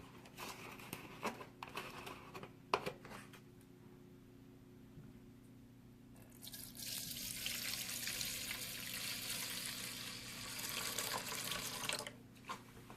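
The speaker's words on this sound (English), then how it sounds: "we're just going to fill the rest up with water" Water running from a tap into a Harbor Freight ultrasonic cleaner tank already holding a little Simple Green, a steady splashing fill that grows louder midway and continues for several seconds after a few handling clunks.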